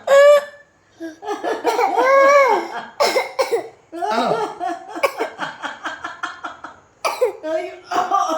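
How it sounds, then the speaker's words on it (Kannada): Several harsh coughs break up a stretch of voiced, croaky vocal sounds, loud and close, with short pauses between bursts. "ಕೆಮ್ಮು"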